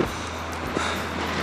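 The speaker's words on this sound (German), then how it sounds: "Es war ein bisschen windig gerade, ich hoffe, ihr hört mich." Wind blowing at a beach in Japan shortly before sunset: a steady, loud rushing roar with low rumbling buffets against the microphone, lasting throughout with no talking.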